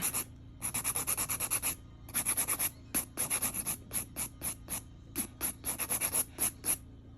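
Rhythmic back-and-forth strokes of a file shaping acrylic toenails, close and fairly loud, coming in quick bursts of scraping separated by brief pauses, with no talking.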